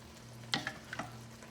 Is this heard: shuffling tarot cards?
no